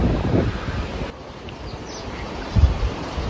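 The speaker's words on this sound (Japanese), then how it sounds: "風が強いので、気をつけて、" Strong wind buffets the microphone by the sea on the Yura Peninsula in Kochi, a loud roaring rush with gusts that rise and fall, waves faintly beneath, no voices.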